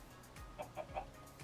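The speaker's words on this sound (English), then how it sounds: "Then we're going to try to shove that chicken" In the Minecraft game with the Better Than Wolves mod, a chicken gives three soft, evenly spaced clucks under low background game noise.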